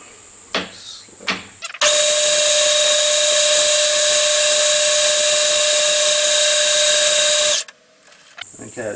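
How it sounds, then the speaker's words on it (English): A metal lathe with a carbide insert faces a casting for a Stuart Turner No. 8 mill engine, making a loud, steady, high-pitched machining whine for about six seconds, with brief knocks and handling noises before and after. "I'm going to use a carbide insert just to take the face off that."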